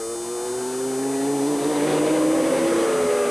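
A Williams Renault Formula One car driven by Nigel Mansell storms away at the 1992 Mexican Grand Prix, its high-pitched engine screaming and climbing steadily in pitch as it accelerates, loud and close.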